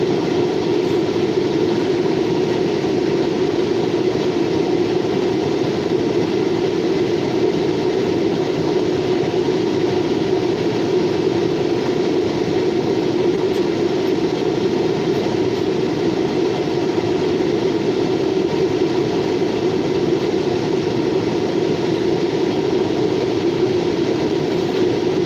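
A Norfolk Southern local freight train passes at New Castle, Pennsylvania, with a loud, steady rumble of rolling wagons and engine drone held for the whole stretch, with no voices.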